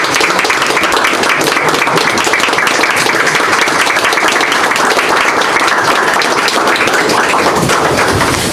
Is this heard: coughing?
no